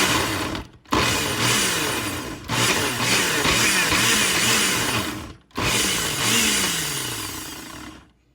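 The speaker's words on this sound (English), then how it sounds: "the blender. All right, we're gonna go ahead and give it a push." A kitchen blender runs in loud bursts while blending banana ice cream, its motor whining and straining in three long pulses separated by brief pauses, with no talk over it.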